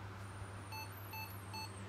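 Old laptop with its hard disk missing emits three short, evenly spaced electronic beeps at startup, faint over a steady low hum.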